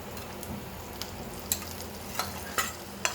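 Oil sizzles in a pan for Hyderabadi masala brinjal, a low continuous hiss broken by faint, irregular clinks and scrapes of stirring.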